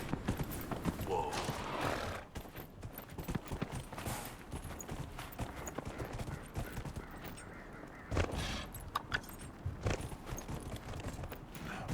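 Horse hooves clip-clopping in the video game Dragon Age: Inquisition, a steady rapid rhythm with a brief whinny, while someone talks over the game sounds.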